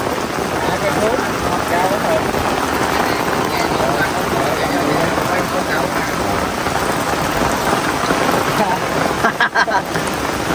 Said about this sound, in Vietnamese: Mưa tầm tã luôn quý cô chú anh chị.